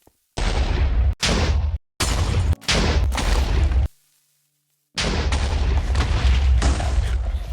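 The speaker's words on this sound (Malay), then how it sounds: "Aku pun meletupkan base sendiri" Own base blown up in a video game, heard as a run of loud, dense blasts and booming gunfire-like bursts broken by short silent gaps, with a long pause before a final sustained stretch of explosions.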